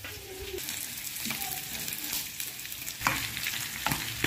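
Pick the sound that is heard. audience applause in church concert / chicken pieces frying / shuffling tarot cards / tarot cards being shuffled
chicken pieces frying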